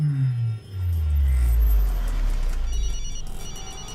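A phone rings with a low, droning electronic tone that slides downward, steady and fairly loud, with no voices over it.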